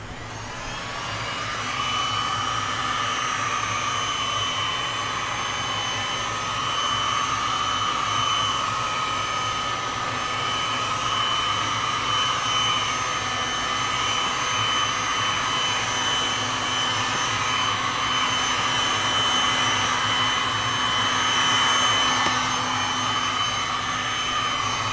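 A heat gun or torch blows steadily over Stone Coat Art Coat resin flood-coated on a canvas, a continuous airy roar that stays loud and even throughout, with no talking.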